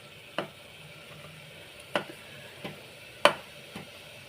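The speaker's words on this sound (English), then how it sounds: "You can see I am mashing all the tomatoes" Tomatoes being mashed in a pan while cooking veg daliya with broken wheat: a few sharp, separate taps and squelches spaced irregularly over a quiet background hiss, close and fairly soft.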